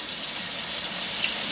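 Cold water pours steadily from a kitchen tap, a constant hissing gush heard up close with no talking over it.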